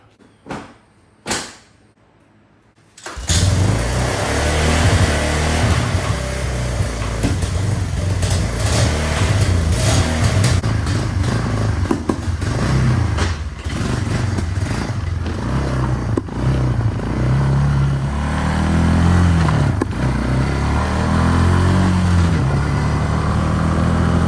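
A 2001 Yamaha BearTracker 250 ATV rides down a road after a few seconds of light clatter, its engine a loud, steady drone with shifting revs, gear changes and wind buffeting, with no talking.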